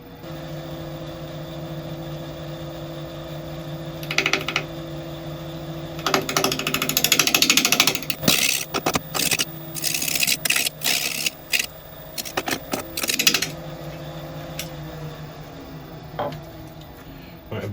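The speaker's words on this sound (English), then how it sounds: "we're going to kind of sneak up on it very gently with the bowl gouge" A bowl gouge cuts a natural-edge redwood bowl spinning on a wood lathe at about 800 RPM. A steady motor hum runs under bursts of scraping, chattering cuts and sharp clacks, close and fairly loud.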